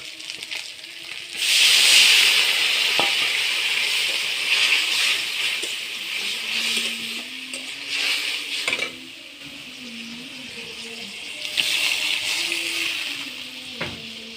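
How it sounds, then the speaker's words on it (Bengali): Water poured into a hot pan of puti fish curry gives a loud burst of sizzling and hissing that settles into steady bubbling, with light utensil clinks nearby and no talking. "ওপাশে আমার পুঁটি মাছগুলো তেলের উপর দিয়ে দিছি ভাজি করার জন্য। দেখুন, এবার আমি জল দিয়ে দেবো।"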